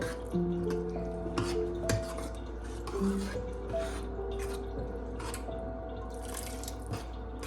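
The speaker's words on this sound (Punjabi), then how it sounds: "ਹੁਣ ਅਸੀਂ ਥੋੜਾ ਜਿਹਾ ਪਾਣੀ ਪਾਵਾਂਗੇ ਜੀ ਇਹਦੇ ਵਿੱਚ" Water poured into a yogurt-based potato curry (dahi wale aloo) gives soft intermittent drips and splashes with faint clinks of a pan, over a steady low kitchen hum.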